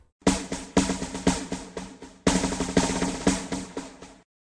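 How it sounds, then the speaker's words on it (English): A drum is played in a children's musical-instrument learning game, a loud, close rhythmic pattern of sharp hits in two short phrases separated by a brief gap, heard alone. "A drum sounds like this."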